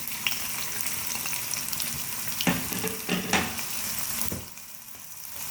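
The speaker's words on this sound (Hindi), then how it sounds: "प्याज को हम मीडियम फ्लेम पर फ्राई कर रहे हैं" Sliced onions fry in oil in a pan over a medium flame, a steady close sizzle with a few stirring scrapes before the hiss drops off near the end.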